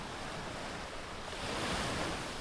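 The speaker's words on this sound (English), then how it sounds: "I could not believe how calm the ocean was" Calm ocean waves wash onto the beach at the Iberostar resort in Cancun, a soft, continuous surf hiss that swells slightly toward the end, mixed with some wind noise and no voices.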